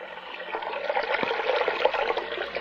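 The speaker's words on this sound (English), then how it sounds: "we want to fill up a bowl here and get plenty of water" Water runs steadily from a tap into a bowl, a close, continuous splashing pour.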